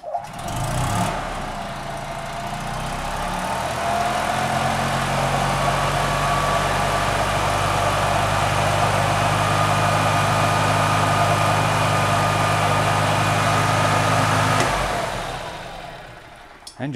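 The gas engine of a 2006 EZGO TXT golf cart, which smokes slightly, starts and idles steadily, close and even for most of the stretch before shutting off near the end.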